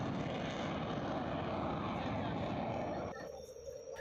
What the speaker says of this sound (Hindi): आसमान में गरजते लड़ाकू विमान भारत की बढ़ती शक्ति के प्रतीक हैं।